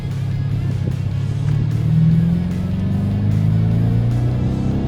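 A 2008 Dodge Challenger SRT8 accelerating, its deep engine roar loud and close, rising and swelling in pitch as the car pulls, with a low rumbling exhaust throughout.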